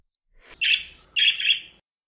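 A parakeet sings two bright, close chirping calls in quick succession, each about half a second long, set against silence.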